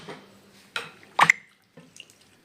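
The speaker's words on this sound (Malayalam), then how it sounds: "ഇനി ആവശ്യത്തിന് വെള്ളം ഒഴിച്ചു കൊടുക്കാം" Water is poured in a few short splashing bursts into a pan of Kerala-style sole fish curry, each pour brief and separated by quiet gaps.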